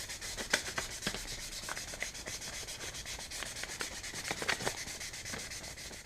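Wet-or-dry 1500 grit paper rubbed over an aluminum bicycle crankarm in quick back-and-forth strokes, a soft, steady, close scratchy hiss with light rhythmic pulses and no voices.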